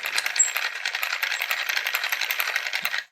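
The hand crank of a military blasting machine turns with a rapid, even mechanical clatter, buzzing steadily for a few seconds up close before stopping abruptly.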